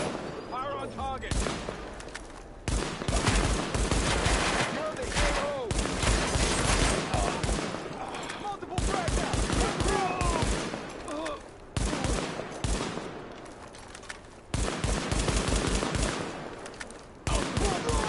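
Rapid gunfire rattles through a Tom Clancy's The Division firefight in repeated heavy bursts separated by short lulls, with voices calling out over the shooting.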